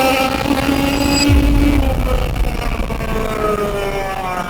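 A high-pitched small engine whines loudly and continuously, its pitch sliding up and down as it speeds along, with a low thump midway.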